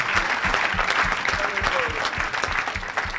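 An audience at a church service claps in a quick, rhythmic beat, dense and close, with voices mixed in among the applause.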